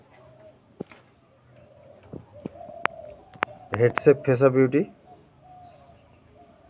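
A pigeon gives a short series of close, throaty coos after a few sharp clicks, with someone talking briefly over the quiet background.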